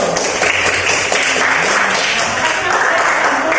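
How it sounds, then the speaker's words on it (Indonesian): Schoolchildren in an Indonesian Islamic religious education classroom give a round of applause, a loud, continuous patter of close hand claps with some voices and light thumps mixed in. "Beri tepuk tangan dulu."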